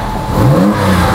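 A 2004 Porsche 911 Carrera 4S engine gives one loud, close rev that climbs quickly in pitch and then settles.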